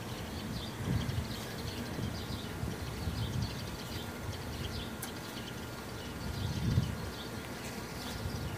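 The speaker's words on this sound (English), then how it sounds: "have a bunch of bees bouncing off of me" Bees swarm and buzz around an opened hive in a garden, a steady low drone with brief closer passes as insects fly near, quiet and continuous with no talking.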